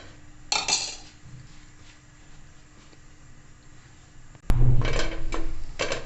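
A knife cuts a homemade burger bun, producing a few sharp clinks and taps of the blade against a hard surface with softer scraping between, close by and without talk.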